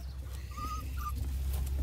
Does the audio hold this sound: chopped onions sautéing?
no